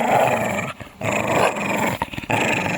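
A dog growls in a low, continuous snarl close by, with a couple of brief gaps and a few sharp catches, as if tugging at a rope in a rough game.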